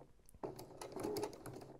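A sewing machine runs in a fast, steady rattle of stitches after a brief quiet start, close and fairly soft.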